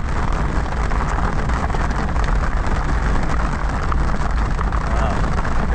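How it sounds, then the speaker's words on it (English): Heavy rain pours onto an old Jeep with a leaky top, heard from inside as a dense, constant roar that stays loud and unbroken throughout. "If it keeps raining like this, actually we're going to be doing our mushroom hunting from the car window."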